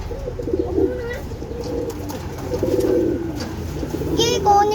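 Pigeons cooing in low soft repeated bursts close by, with background chatter and a few brief higher bird chirps.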